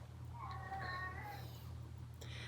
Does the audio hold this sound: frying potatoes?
no